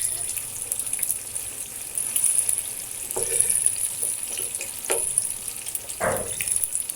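Tofu fries in oil with a steady hiss, broken now and then by brief scraping and stirring sounds close by.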